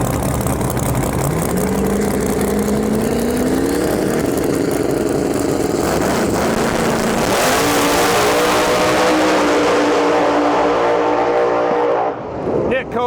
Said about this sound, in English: I'm running a 106 supercharger on my Fox Body Mustang. It's a small block Ford.